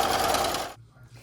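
A sewing machine stitches paper quilt pieces in a fast, rattling burst that stops abruptly after under a second, leaving a quiet room with faint low hum.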